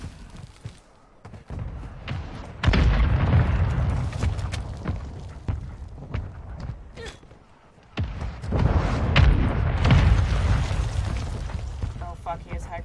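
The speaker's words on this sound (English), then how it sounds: "Mortar strike inbound." Mortar strike explosions land in a video game, heavy booms arriving in two big rumbling bursts with thuds and debris between, with voices talking over the action.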